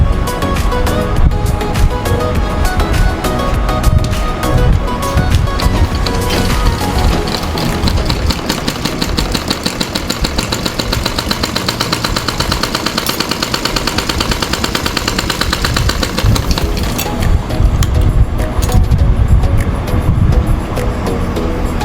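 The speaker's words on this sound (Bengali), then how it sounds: "দুই সাইডে আমি চিহ্ন অনুযায়ী সেলাই দিয়ে নিচ্ছি।" A sewing machine stitches the seams of a blouse, running loud and fast with a steady mechanical rattle that keeps going almost without pause, its pace shifting slightly midway.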